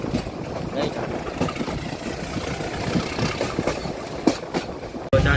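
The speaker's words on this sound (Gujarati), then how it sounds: "સાસણગીર વચ્ચેથી ટ્રેન જઈ રહી છે" A train running through Sasan Gir forest, its steady rumble and rhythmic clatter of wheels on rail continuing throughout, with a sharp thump near the end.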